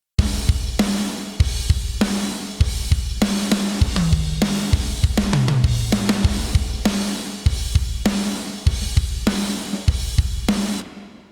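A rock drum mix plays through engaged master bus plugins: heavy kick and snare hits in a steady driving beat with toms in the middle, loud and dense, no voice, ending abruptly.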